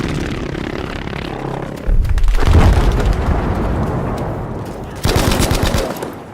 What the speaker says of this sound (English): the devastating blast of a V1 rocket